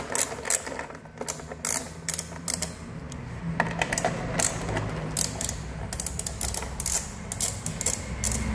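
Bolts being loosened on the brake of an Okinawa electric scooter, with a run of close, sharp metallic ratcheting clicks and tool rattles in short bursts over a steady background hum.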